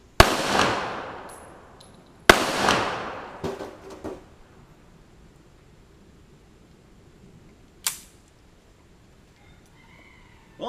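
Two sharp, loud gunshots about two seconds apart ring out in a backyard at a metal mailbox target, each trailing off with a brief echo, followed by quiet and a single fainter distant crack.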